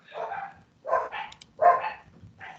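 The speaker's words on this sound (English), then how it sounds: "my dogs are going crazy" Dogs bark in four quick, separate bursts at moderate distance, with short gaps between them.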